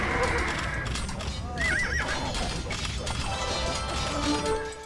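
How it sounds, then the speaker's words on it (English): Horses whinny repeatedly amid battle noise in Age of Empires 2 Definitive Edition, a 4v4 castle fight with Lithuanians, shrill neighs rising over clip-clopping hooves and crashing clatter, with someone talking over the din. "Send the rest of the horses over here."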